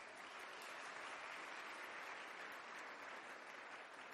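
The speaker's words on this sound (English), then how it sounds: "Please give them a big applause." A crowd claps steadily, a dense even patter of many hands that holds at the same level throughout.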